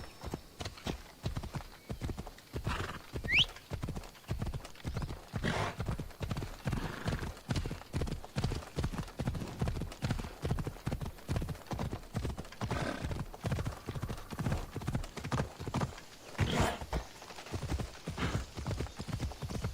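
A horse gallops in Assassin's Creed Odyssey, its hooves drumming a fast, steady rhythm close by throughout, with a brief whinny early on.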